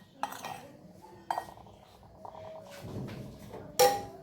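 A murmura pakora mixture is stirred in a bowl, giving soft scraping and a few sharp clinks of a utensil against the bowl. The sounds are intermittent and fairly close, ending with one louder clink.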